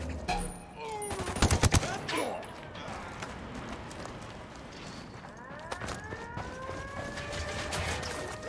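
A wailing alarm siren rises and falls in the video game Ghost Recon Wildlands while bursts of rapid gunfire crackle, loudest early on, with a voice talking faintly underneath.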